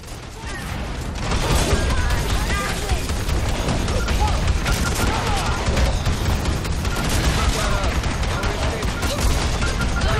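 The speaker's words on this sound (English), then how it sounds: "Switch out back to my autocannon." A heavy autocannon fires continuously in Evolve Stage 2, a dense, loud barrage of rapid rounds amid battle noise with no pause across the whole stretch.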